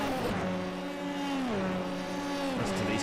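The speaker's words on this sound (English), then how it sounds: "Listen to these cars making an absolute racket." Formula 3 race cars on the Red Bull Ring in a sim racing game roar loudly and continuously, engines rising and dropping in pitch as they shift gears, with no voices over them.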